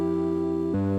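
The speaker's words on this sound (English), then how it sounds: "First off, we have a very simple EQ" A chord progression shaped by a simple EQ that trims top and bottom end, two sustained synth chords with one change near the end, loud, brief and alone.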